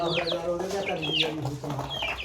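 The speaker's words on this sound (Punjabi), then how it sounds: "ਮੁਰਗਾ ਮੁਰਗੀ ਕਿਹੜਾ ਉਹ ਦੇਖੋ ਦੇਖੋ ਲੜਦੇ ਲੜਦੇ" Several chickens cluck and squawk in a busy, overlapping chorus, close by, with people talking in the background throughout.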